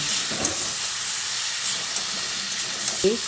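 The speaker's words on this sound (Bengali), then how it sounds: "এঁচোড় সেদ্ধ যে জলটা ছিল সেই জলটা অল্প করে করে দিয়ে এইভাবে এঁচোড় আর আলুটাকে কষিয়ে নেব" Green jackfruit and potato sizzle in a pan as a little of their boiling water is added, making a steady, moderate hiss. There are brief faint vocal sounds near the start and end.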